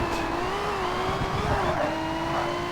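An older race car's engine in Forza Motorsport, an endurance-class prototype, holds a steady, loud drone with slight pitch shifts as it revs, a continuous near roar with faint tire noise and no talking.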